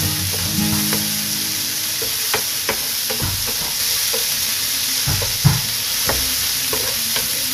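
Tomatoes and chili sizzle and fry in a pan of pork adobo, with steady crackling and occasional sharp clinks and scrapes of stirring, close and continuous.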